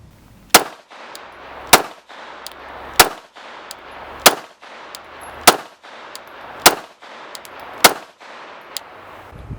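A Glock Model 25 .380 ACP pistol fires eight sharp, loud shots at an even, unhurried pace of roughly one per second, each crack followed by a short echo.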